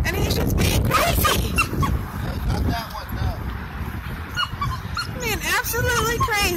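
Dogs playing at a dog park, with barks, yips and whimpers in quick bursts close by, heard under steady talk from people nearby.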